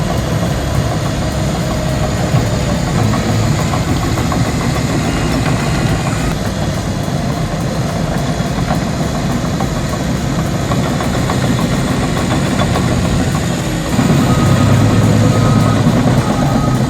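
A bulldozer at a road work site runs its heavy diesel engine at idle, a steady, loud, rumbling drone with knocking vibration that continues unbroken, getting slightly louder near the end.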